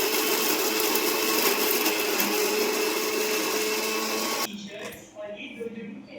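Mixer grinder whirring loudly and steadily as it grinds baked baati for churma, then cutting off abruptly, leaving quieter room sound.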